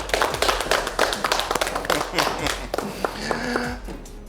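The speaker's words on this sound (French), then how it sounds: "Applaudissez-la, c'est une dame, s'il vous plaît." Studio audience clapping for a woman guest joining a French television talk show, a loud, steady round of applause with scattered sharp claps and a faint tonal sound near the end.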